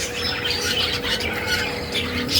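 Parakeet breeders in an aviary give continuous harsh squawks, several birds calling over one another at close range with a steady chatter beneath, loud and unbroken throughout.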